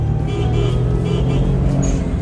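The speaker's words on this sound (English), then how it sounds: "Listen to that little blow off." A Suzuki Cappuccino with a turbo blows off with a brief whoosh over a steady engine note, heard from inside the small car while driving.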